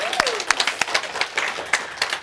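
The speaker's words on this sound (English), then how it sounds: "So let's give Centers for Spiritual Living a great big hand of applause." A church congregation at a Sunday service for Centers for Spiritual Living breaks into warm applause, many hands clapping in a full, steady stream, with a brief vocal whoop near the start.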